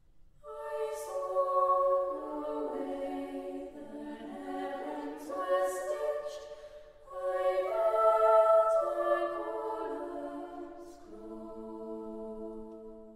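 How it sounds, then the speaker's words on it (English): Voices of a choir sing a choral setting of an Emily Dickinson poem composed by Jonathan Dove, with sustained overlapping lines that swell and fade in slow phrases, heard alone and fairly soft. "What you are hearing is Dickinson's poem set to music composed by Jonathan Dove."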